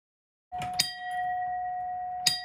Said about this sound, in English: For Howard Cederlund, that bell in the garage brings up memories of being a teenager in the Navy